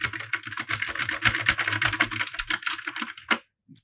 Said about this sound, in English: Listen how loud these switches are.